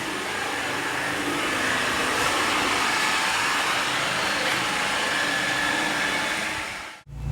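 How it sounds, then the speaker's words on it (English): A machine polisher works the paintwork of a Mercedes C-Class C63 507 Edition during a car detail, giving a loud, steady whirring drone that runs unbroken for about seven seconds before cutting off abruptly near the end. "machine polish the C-Class, which he's doing just over there inside"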